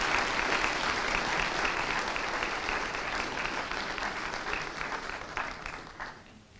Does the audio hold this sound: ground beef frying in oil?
no